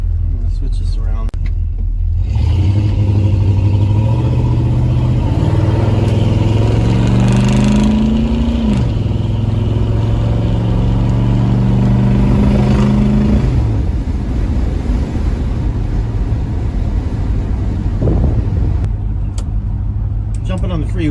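A truck engine is revved hard to clear carbon buildup: a loud, close roar climbs in pitch, holds at high revs in stepped surges for about ten seconds, then drops back to a rumbling idle.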